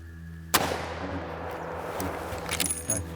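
A single sharp hunting gunshot cracks loudly at close range, followed by a fading outdoor rumble and a few small rattling handling noises.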